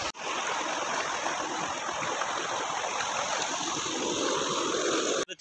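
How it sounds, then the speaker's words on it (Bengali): A waterfall pours in a steady, loud roar of rushing water that stays close and continuous throughout, with a brief dip at the very start and end. "এই যে ঝর্ণা,"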